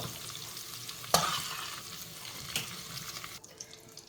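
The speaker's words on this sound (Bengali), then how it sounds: "ভালো করে দুই মিনিটের মতন আপনাদের ভেজে নিতে হবে" Dried fish (shutki) fries in a pan with a steady sizzle, broken by sharp scraping clicks of a spatula stirring it, close and fairly quiet, without any talking.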